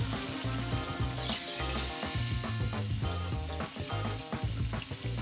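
Pork loin sears in hot oil in a pan for a slow cooker recipe, giving a loud, steady sizzle with rhythmic scraping and clatter from stirring or moving the meat throughout.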